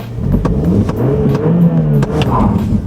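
A Fiat 500 Turbo accelerates hard from a standstill, its engine revving loudly and close with rising and falling tones as it climbs through the gears, briefly bogging down.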